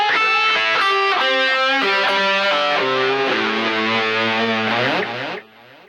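Distorted electric guitar plays the first solo over an A, with rapid lead notes and shifting pitches that ring out loud and steady before a short fade.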